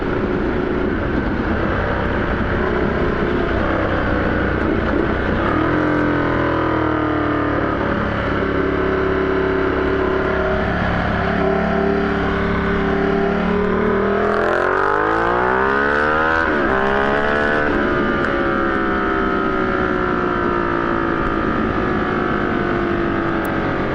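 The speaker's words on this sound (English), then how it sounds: "3rd gear blast." A Ducati Diavel motorcycle fitted with a 14-tooth front sprocket accelerates hard in third gear, its engine note climbing steadily and loud throughout, with a rising sweep near the end of the pull.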